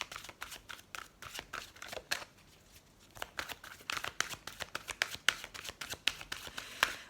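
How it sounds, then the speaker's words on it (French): Oracle cards are shuffled by hand in quick, close riffles and flicks of card stock, with a short pause midway before the rhythmic shuffling resumes. "on va prendre quelques cartes de l'oracle Les Anges de l'amour pour voir s'il y a d'autres messages."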